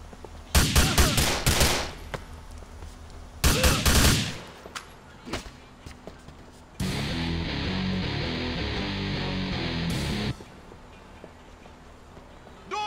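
Gang war gunfire in GTA 4, loud bursts of rapid automatic shots in two close volleys, followed by a sustained harsh roar of continuous firing that cuts off, with quieter scattered sounds between.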